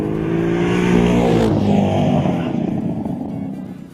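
A 2010 Corvette Z06 revs past about 3,000 RPM as its exhaust flap opens, giving a loud, sustained, rising engine roar with a rich, deep tone.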